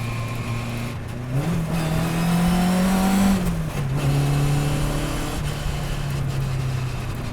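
A 1957 Lotus 7 racing car engine, heard from the driver's seat, blips up in revs during a downshift and then settles back to a steady drone, loud and close throughout.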